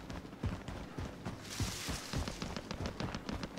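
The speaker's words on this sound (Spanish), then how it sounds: "¿oigo tiros? Sí." Scattered gunshots in Call of Duty: Warzone, several sharp reports at irregular intervals, mid-distance, over a busy rumbling battlefield background with no talk.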